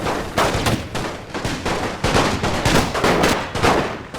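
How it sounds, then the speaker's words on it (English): Heavy artillery and gunfire pound a town under bombardment in a World War I strategy game set in Serbia, a dense, continuous barrage of overlapping booms and crackling shots, loud and close with no gaps. "And my artillery is tearing it down just as much"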